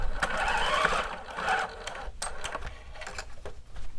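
Sewing machine back stitching at the end of a bodice shoulder seam, a short close whirring run followed by quick stop-start bursts, with no voices.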